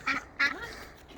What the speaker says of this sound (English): A great duck rodeo.